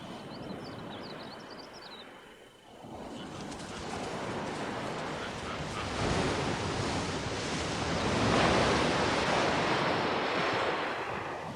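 Surf washing on the rocky Cape Peninsula shore at low tide, a steady broad roar of breaking waves swelling louder midway, with wind buffeting the microphone and a brief bird call early on.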